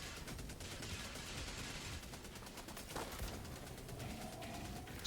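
A machine gun turret in the shooter game Helldivers 2 fires continuously, producing a steady, rapid rattle of rounds that sounds somewhat distant under dense battle noise.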